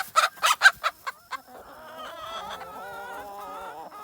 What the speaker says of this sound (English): I think we have found the alpha rooster here.